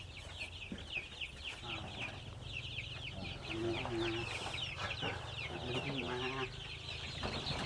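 Pradu Hang Dam Chiang Mai chickens on a Thai farm cluck steadily in a busy flock, with short hen calls rising over a constant dense background of many birds.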